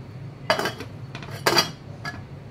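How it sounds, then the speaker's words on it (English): A metal lid clanks onto a pan of soaking paneer in a home kitchen, two sharp clattering hits followed by a lighter clink, close and alone. "Close it with the lid and keep it aside."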